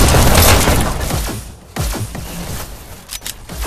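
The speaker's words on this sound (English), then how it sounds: "Shotgun" Shotgun blasts in a video game: loud, booming reports at the start, a short dip, then several sharp, punchy shots in quick succession, close and forceful.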